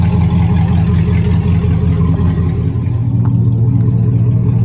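A 2007 Chevrolet Silverado 4.8 V8 with the catalytic converters gutted out gives a loud, close, throaty exhaust rumble that shifts down in pitch near the end, with no voices over it.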